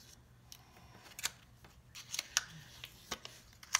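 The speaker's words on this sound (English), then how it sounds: "You can just use your scissors." Scissors snip during a paper-crafting demonstration, a series of sharp, close cutting clicks at an uneven pace over a quiet background.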